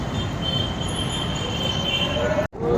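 A steady, loud rumble of a crowded metro train running on rails, with a faint high squeal, cut briefly by a sudden dropout near the end.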